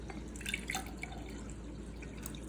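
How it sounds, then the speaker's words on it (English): Water is poured into a hypertonic solution holding an egg, with small trickles and splashy drips that are faint and close, and no one talking. "I'm going to be adding water"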